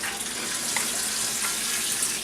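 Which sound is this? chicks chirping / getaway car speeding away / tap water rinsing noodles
tap water rinsing noodles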